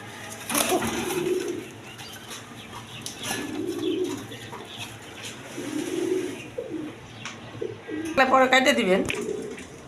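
Pair of ball pigeons cooing: three low, throaty coos roll out at a slow, regular interval, close by, followed by a burst of brighter chirping near the end.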